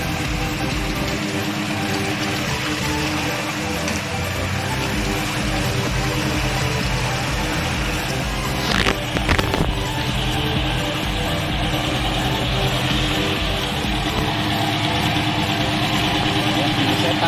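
A 1982 Suzuki Jimny off-roader idles steadily in low range with its engine running continuously, a brief clatter around the middle, and the hum carries on unchanged to the end.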